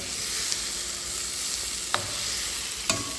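Egg thokku cooks in a pan with a constant bright sizzle and hiss, broken by a couple of brief clicks from a spatula gently moving the eggs.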